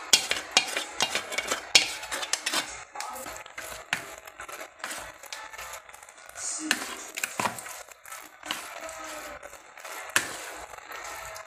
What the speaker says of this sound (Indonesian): Kita aduk sampai santannya tercampur rata.